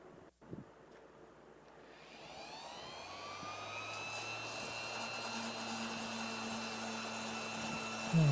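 A random orbital sander evens out the comfort carve on a custom guitar body, its steady whirring hum spinning up and holding loud and close with a rising whine, no talking over it.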